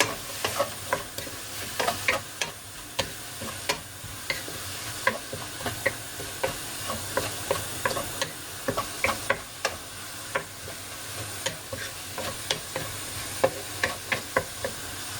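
Cabbage and egg stir-fried in a pan over high heat, a continuous hiss of sizzling oil broken by regular sharp spatula clacks and scrapes against the pan, no voices.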